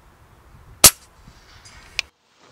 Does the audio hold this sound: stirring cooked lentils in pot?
no